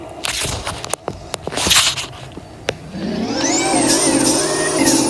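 A few clicks and thumps, then a truck engine in a Roblox video game starts and settles into a steady rising drone with a whining tone, loud and close.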